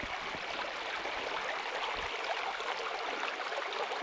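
Steady creek water rushes and babbles beside a campsite, a continuous broadband wash filling the whole stretch with no voices.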